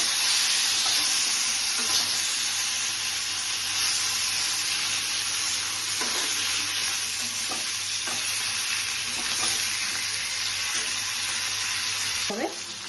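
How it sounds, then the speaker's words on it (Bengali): Steady, loud sizzling of hilsa fish shallow-frying lightly in oil in a pan, a continuous hiss with occasional stirring scrapes and a brief clatter near the end. "ফ্রাই করে নিচ্ছি।"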